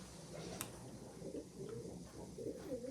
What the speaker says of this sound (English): You can hear the pigeons, I bet.